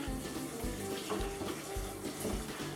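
Hot water runs steadily from a tap into a container, a continuous splashing gurgle with no voices.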